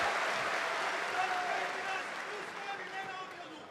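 Spectators at an MMA event in Osijek break into applause and cheering, a broad wash of crowd noise that is loud at first and gradually fades over a few seconds.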